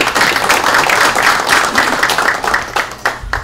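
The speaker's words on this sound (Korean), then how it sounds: "박수 한번 쳐주시고" An audience at an emergency meeting on the MERS outbreak claps for an arriving lawmaker, with close, loud, dense applause that pulses steadily and then thins toward the end.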